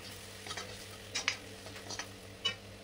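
Turmeric and cumin powder fry in oil in an iron wok, giving a faint, steady sizzle with a few brief scraping and stirring clinks of a utensil against the metal.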